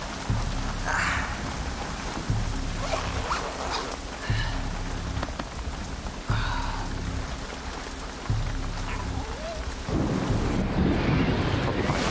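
Heavy rain pounds steadily on a tent in a mountain thunderstorm, with low thunder rumbling repeatedly beneath the dense roar.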